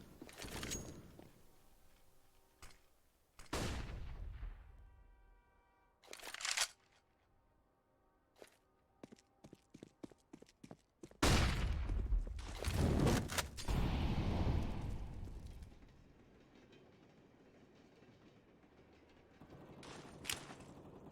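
M4 rifle bursts in Counter-Strike on the Train map, sharp spaced shots and quick sprays separated by quiet stretches, with a louder sustained burst of gunfire in the middle.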